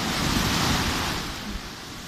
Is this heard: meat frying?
no